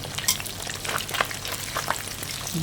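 Small fish coated in red curry paste frying in hot oil in a pan, a dense steady crackling sizzle with sharp spatters and pops, close and alone without talk.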